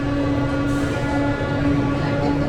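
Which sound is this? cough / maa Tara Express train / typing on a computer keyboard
maa Tara Express train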